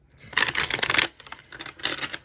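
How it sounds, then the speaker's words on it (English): Tarot cards are shuffled by hand in two quick bursts of riffling and rustling, close and fairly loud with brief pauses between. "That was a messy shuffle."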